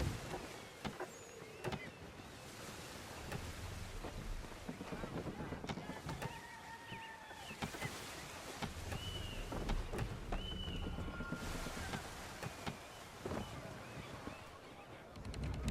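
A sailing ship under full sail in Assassin's Creed III: steady wind and rushing water with creaking rigging and brief whistling tones, heard continuously for the whole stretch at a moderate, even level.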